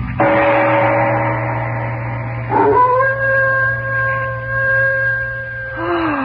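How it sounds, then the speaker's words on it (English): A dog's long, mournful howl as an old-time radio drama effect, several drawn-out rising and falling wails, close and loud over a low mains hum, with no talk. "No sound can be heard but the ominous howling of a dog."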